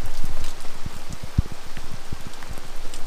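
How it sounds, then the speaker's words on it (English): Torrential rain pours onto a boat at anchor near Annapolis during a storm, a dense, loud, continuous patter broken by heavier irregular thumps of drops hitting the deck, with no voices. "we've got, wow, like torrential downpour"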